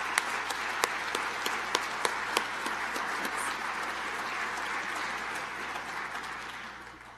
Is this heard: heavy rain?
no